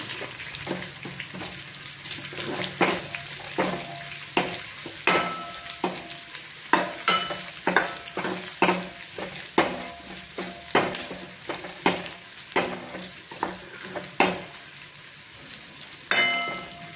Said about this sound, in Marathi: हे बघा, आपलं लसूण मस्त फ्राय झालेलं आहे।